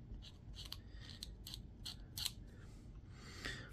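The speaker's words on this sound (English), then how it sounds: "scraping away one side, the bare plastic" A blade scrapes bare plastic on a B-25J cockpit glass model in a series of quick, quiet, scratchy strokes, close up and alone.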